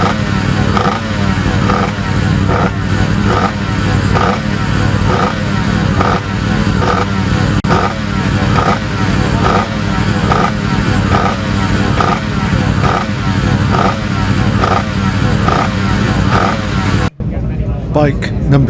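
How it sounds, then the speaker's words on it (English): A racing superbike at the 2018 Classic TT runs with a loud, continuous engine drone and rhythmic pulsing, close by, with people talking over it, and cuts off abruptly near the end. "Bike number 66 is Pete Murray's Superbike"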